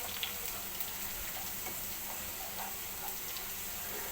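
Cloves, cardamom, cinnamon sticks and bay leaves crackle and fry in hot oil as they are stirred, a steady, soft hiss with faint clicks throughout, no voices.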